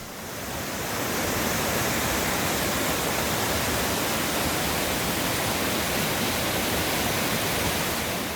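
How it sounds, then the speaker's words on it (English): Rapids on the Brightsand-Kopka River rush over rocks, a loud, dense, unbroken roar of whitewater that swells up in the first second and then holds steady, with no voices. "Here's the rapids we portaged around. Lots of rocks."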